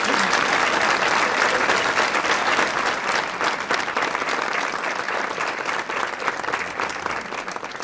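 Loud, sustained applause from an audience at the inauguration of the Torreón de San Miguel, a dense steady clapping that fills the clip and eases off slightly toward the end.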